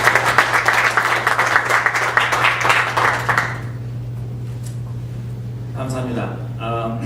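An audience claps to welcome a pastor to the stage at a church academy presentation: a dense burst of applause lasts about three and a half seconds and then stops, and a voice starts speaking near the end.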